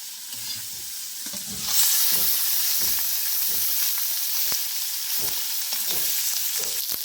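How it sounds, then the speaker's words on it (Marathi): Khadas river fish frying in a pan, a steady dense sizzle with bursts of crackle and spitting oil that swells louder partway through, no voices. "आता खडस मासा फ्राय करायला घेऊया"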